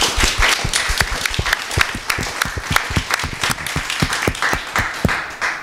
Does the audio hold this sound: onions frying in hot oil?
no